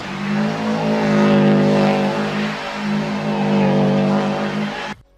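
A rally car spins donuts, its engine roaring loud and close as the tyres squeal in sustained waves for several seconds before the sound cuts off abruptly.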